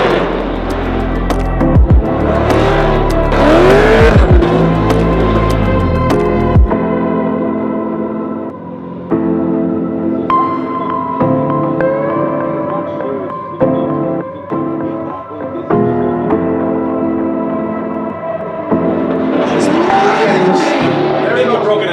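A drift race car runs the wall in a long, loud stretch of engine roar and tire squeal, with several pitch sweeps and skids, and the engine note swells again near the end.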